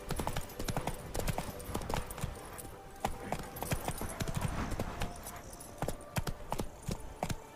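Hoofbeats of the horse Roach galloping in The Witcher 3, a steady rapid clip-clop running throughout at close range, with occasional brief whinny-like and jangling tack sounds mixed in.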